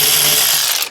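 An electric ratchet spins out T25 Torx screws while fitting a stereo in a facelift Fiat 500 or Abarth, giving a loud, steady high-pitched whirring buzz that holds for nearly a second before cutting off.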